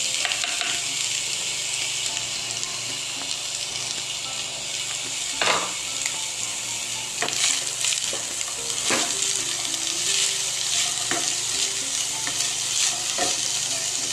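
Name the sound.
frying and stirring chopped capsicum for chicken macaroni samosa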